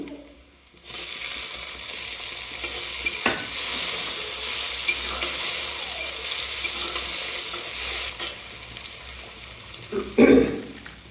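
Spices fry in a pan for kulti dal while being stirred, giving a steady close sizzle with soft scraping strokes and a brief louder clatter near the end.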